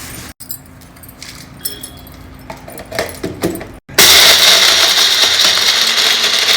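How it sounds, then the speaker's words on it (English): Blender grinding green chilies, dals, turmeric and salt into a thick paste for a raw mango dish, starting after quieter kitchen clatter and then running loud, dense and steady without pause. "Blend it all into a paste."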